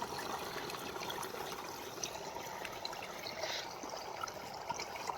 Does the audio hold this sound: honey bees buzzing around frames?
no